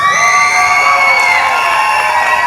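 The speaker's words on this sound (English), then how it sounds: "let's give a big round of applause to these students who did so well" At an MLK event, an audience cheers for award-winning students: loud, sustained crowd whooping and shouting with children's voices rising above it, close and continuous throughout.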